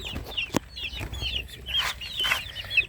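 Young chicks being treated for coccidiosis cheep and cluck in short, high, repeated chirps, close and fairly clear, with soft background noise and no talk.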